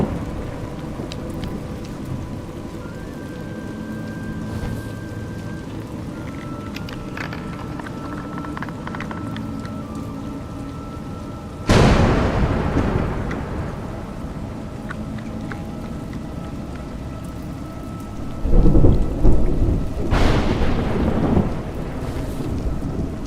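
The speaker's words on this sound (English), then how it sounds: "It's raining." Rain and thunder in The Circus: A Juggler's Tale video game: steady rainfall throughout with two loud thunder crashes, then a rumbling roll near the end.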